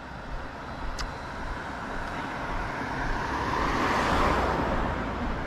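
Cars pass on a road, a broad whooshing roar that swells toward a nearby pass and then eases, with steady traffic noise underneath and no talking.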